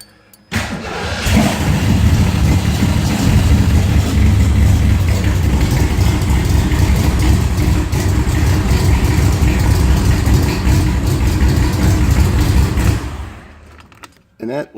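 A car engine cold starts with a short crank, then catches and settles into a loud, close, steady idle that runs before cutting off at the end.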